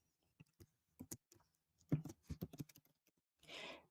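Sparse, quiet keystrokes on a computer keyboard tap out a short command, close and isolated, with irregular gaps and a brief soft rustle at the end.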